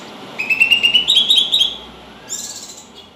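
A bird calls in a rapid series of bright, repeated chirping notes, close and clear, then gives a shorter burst of calls after a pause.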